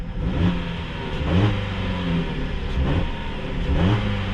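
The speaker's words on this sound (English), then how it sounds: "Of course, you can kind of hear the 4-cylinder engine." A 2021 Jeep Compass 80th Anniversary Edition compact SUV with a 4-cylinder engine runs steadily close by, its mid-pitched engine note swelling in several repeated revs over about four seconds, with no talking.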